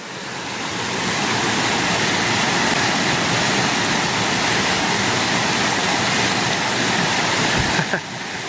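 Waterfall in Bulgaria, a loud, dense and steady rush of falling water close by, continuous throughout with a brief knock near the end.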